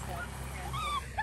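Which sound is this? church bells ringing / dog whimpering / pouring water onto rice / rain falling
dog whimpering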